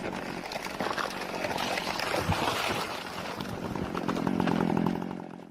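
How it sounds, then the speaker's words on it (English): A chainsaw cuts down a big tree, a loud steady motor drone with grinding bite that swells toward the end, set against an outdoor wash of noise and no speech. "Jeremy was sawing a particularly big tree down"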